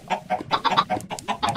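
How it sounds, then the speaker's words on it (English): Several Minecraft chickens clucking in quick, uneven bursts, fairly close and clear, with no talking over them. "I think I have like 7 or 8 chickens here."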